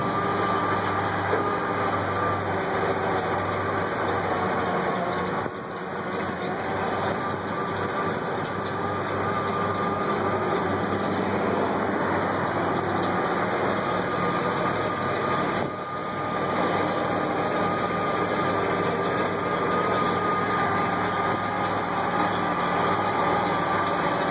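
A 1988 Ford F-350 one-ton dump truck idles steadily with its PTO engaged, running the hydraulics that raise the dump bed, a continuous close engine drone with faint high whine and two brief dips.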